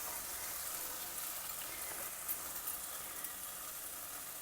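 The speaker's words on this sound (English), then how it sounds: "I am getting a wonderful aroma of the onions and tomatoes frying in the ghee." Onions and tomatoes fry in ghee for a South Indian hotel-style tiffin sambar, giving a steady, close sizzle with faint crackles and pops throughout and no voices.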